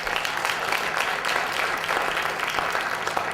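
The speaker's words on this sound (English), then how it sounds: "Give him a nice round of applause." Audience at a college elevator pitch competition applauds warmly, a dense continuous round of clapping that holds steady throughout with no voices over it.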